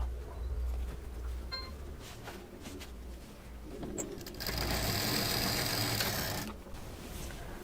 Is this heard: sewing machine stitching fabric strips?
yes